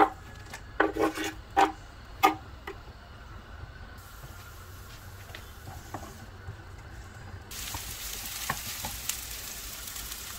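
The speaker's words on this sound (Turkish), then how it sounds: "Üzerine doğradığımız soğanı ekleyip 1-2 dakika kadar kavuralım." Chopped onions sizzle softly in oil in a hot pan, with a few sharp scraping and stirring clatters early on, then a steady frying hiss.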